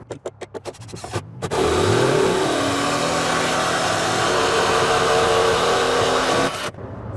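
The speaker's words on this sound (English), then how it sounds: "I'm going to run the screw right through here" Screw driven by a power drill through a wooden rafter truss in a historic freighthouse renovation, a sustained loud whirring drive of several seconds after a few short taps, ending abruptly.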